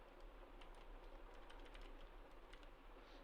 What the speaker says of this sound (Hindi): काफ़ी देर बाद टाइपिंग कर रहा हूँ